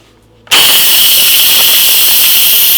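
A pressure cooker cooking chicken vents steam after its toggle switch is flipped, a sudden loud, steady hiss that starts abruptly after a half-second of quiet and continues unbroken.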